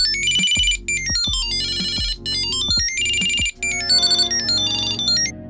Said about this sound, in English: I'm ringing your keys.